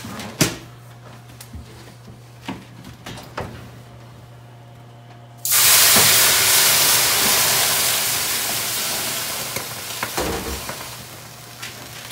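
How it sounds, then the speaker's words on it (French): Water poured into a hot metal pan at the bottom of an oven while ciabatta bakes, setting off a sudden loud steam hiss that holds steady and slowly fades after a few quiet clicks and knocks. "je vais verser de l'eau dans un récipient de métal au fond. C'est pour faire l'humidité, la vapeur pendant que le pain cuit."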